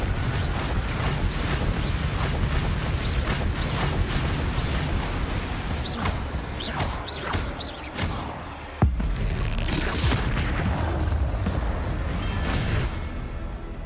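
Confringo explosive spells blast in Hogwarts Legacy amid dense, continuous combat rumble, with booms and crackling impacts layered throughout and one sharp hit standing out partway through.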